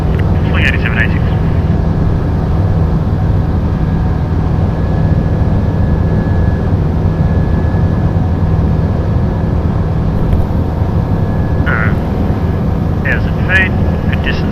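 A Sling 2 light aircraft flies circuits with a touch-and-go, its engine a loud, steady drone heard from inside the cabin, with brief radio talk over it.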